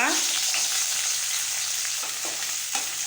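Peeled, washed small shallots, two handfuls, hiss and crackle in hot oil with a loud, dense, continuous sizzle up close, broken by a couple of brief stirring scrapes near the end, with no one talking.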